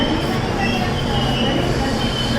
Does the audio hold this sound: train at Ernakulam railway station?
yes